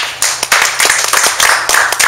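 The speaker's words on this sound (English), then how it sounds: "give him a big round of applause for that" An audience at a networking meetup breaks into applause, dense hand clapping that stays loud and close throughout.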